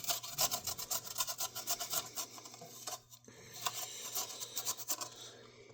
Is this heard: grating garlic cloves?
yes